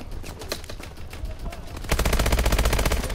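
Automatic gunfire in the shooter game Call of Duty: Advanced Warfare, starting midway as a loud, rapid, steady burst of shots that continues to the end over a busy game soundscape.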